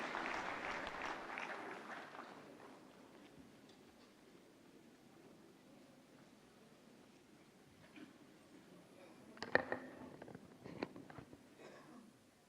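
Audience applause at the 69th National Film Awards ceremony, a broad crowd clapping that starts full and steadily fades over several seconds, then a few scattered louder claps and knocks near the end.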